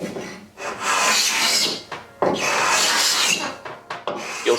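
A hand scraper shaving the joint between two walnut table panels flat, giving repeated rasping strokes in a steady back-and-forth rhythm, close and loud.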